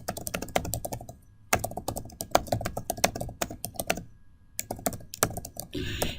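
Rapid clicking keystrokes on a computer keyboard, typed in quick bursts with short pauses, close and clear with no talking.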